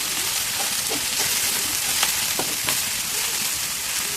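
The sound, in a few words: broad beans (chikkudukaya) frying in oil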